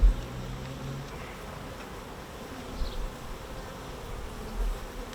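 Honey bees buzz steadily over a beekeeper's hive frame near the edge of the hive, a continuous close drone with a few brief louder swells and no talking.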